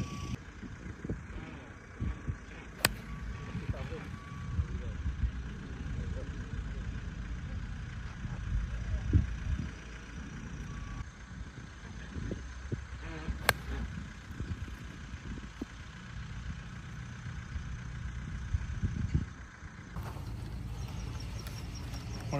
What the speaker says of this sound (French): il y avait le tracteur 4 mètres derrière moi qui n'arrêtait pas